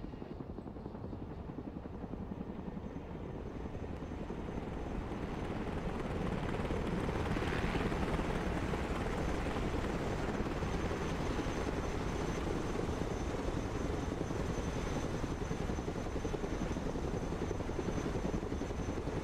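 A Chinook helicopter touches down in the Broken Arrow video game, its rotors a loud, steady, continuous thrum that swells slightly and holds for the whole stretch, with no voices over it.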